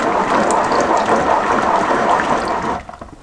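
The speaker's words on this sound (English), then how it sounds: "I'm just gonna give it a little swirl with my" Strawberry wine mash of fruit and water swirled around in a bucket, a close, steady sloshing churn that stops abruptly near the end.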